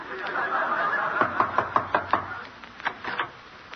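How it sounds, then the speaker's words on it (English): Knocking on a door as a radio comedy sound effect, a quick series of about six knocks followed by a few more, moderately loud over a steady hiss. "I'll knock."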